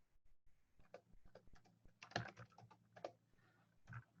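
Keys on a computer keyboard clatter in quick, irregular bursts of taps, close and fairly soft, with brief pauses between clusters while a formula is entered in Excel.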